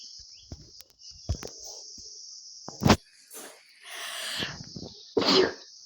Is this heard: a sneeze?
yes